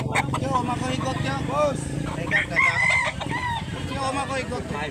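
A bullstag rooster, a young cock, crows over a noisy market where people talk throughout, its call rising through steady background chatter.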